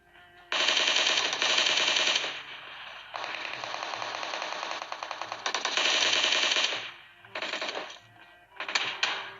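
Video game gunfire with cover fire: long, loud bursts of rapid automatic weapon fire, several sustained rattling volleys separated by short pauses, close and dominant.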